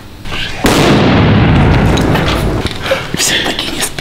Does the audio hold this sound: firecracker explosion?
yes